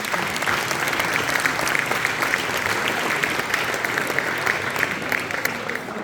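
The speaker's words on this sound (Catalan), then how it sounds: "Un fort aplaudiment per tots vosaltres" A crowd at a village festival breaks into loud, dense applause that holds steady and unbroken throughout, with no speech on top.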